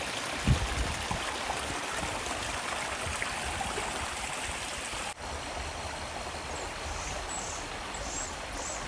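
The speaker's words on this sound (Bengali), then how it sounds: "নদীটার আওয়াজটা শুনুন।" A forest river near the Suntalikhola eco-tourism resort in the Dooars rushes steadily, a broad unbroken wash of flowing water that stays close and even throughout, with a faint bird call now and then.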